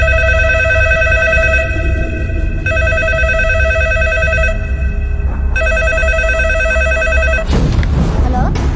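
A telephone rings loudly and close by in repeated electronic bursts separated by short pauses, stopping near the end as a rustling noise takes over.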